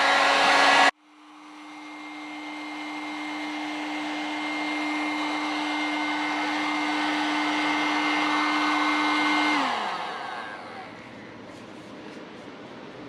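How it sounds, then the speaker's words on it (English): A heat gun blows on a fresh wrinkle paint coat on a Subaru Forester part, a steady close whine and rush that clicks on abruptly, holds for several seconds, then winds down. "Got the heat gun."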